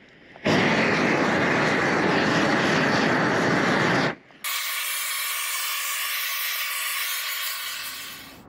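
A loud, steady roar of a propane hand weed torch flame burning weeds on pavers, cutting out briefly and then returning as a harsher, hissing blast that slowly fades.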